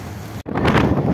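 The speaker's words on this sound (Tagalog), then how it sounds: "Oh, lakas na hangin. Oh, grabe lakas." Strong wind roars and buffets loudly against the microphone at a parked vehicle, broken by a brief dropout before the rushing gusts return.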